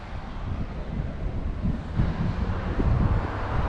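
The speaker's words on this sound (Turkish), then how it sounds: "Çok pis rüzgar var bugün." Strong wind buffets the microphone with a steady, loud, low roar throughout, outdoors by the coast on a cycling camping trip in Turkey, with no speech.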